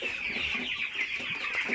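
Hens and chicks clucking and cheeping continuously, with a steady chorus of small chick peeps over lower hen clucks, fairly close, in a village in Osmaniye.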